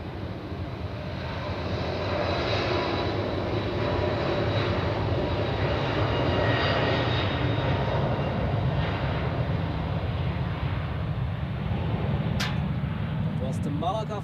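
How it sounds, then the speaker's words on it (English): An airliner departs runway 28 at Zurich airport, a steady loud broadband engine roar sustained throughout, with a brief sharp noise near the end. "Now the next departure on runway 28."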